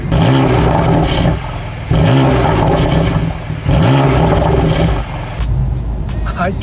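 A BMW M4 engine revs in loud, sustained bursts while driving, with three long surges broken by brief dips and a sharper burst near the end.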